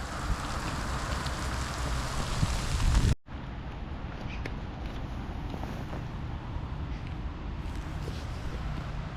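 Hail pelts down at a riverside feeder-fishing spot on the Psel River in Sumy, a dense, hissing patter that drops abruptly in loudness after a few seconds and then continues as a softer steady wash.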